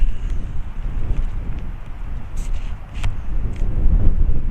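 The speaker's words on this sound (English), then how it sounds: "I know it's windy, but this is way better than what it was." Blustery wind at a Moab campsite buffets the microphone with a constant low rumble that swells and eases, loud and close.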